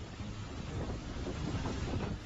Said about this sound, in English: The wind blowing forcefully.